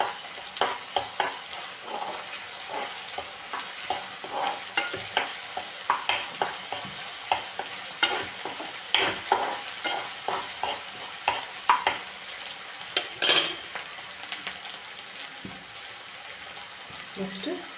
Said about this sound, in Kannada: ಆ ಥರ ಚೆನ್ನಾಗಿ ಫ್ರೈ ಮಾಡ್ಕೋಬೇಕು.